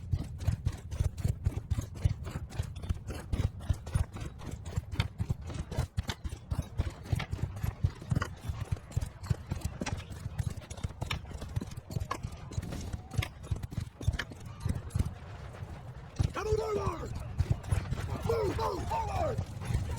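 Cavalry horses galloping in Mount & Blade II: Bannerlord, a dense rapid drumming of hooves throughout, with a horse whinny rising near the end over the thundering charge.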